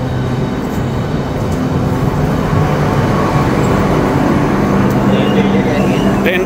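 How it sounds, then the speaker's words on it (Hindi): Interior of a train just arrived at Stratford station in London, a steady loud low rumble and hum of the carriage with muffled voices and movement throughout. "अभी हमारी ट्रेन आ गई है"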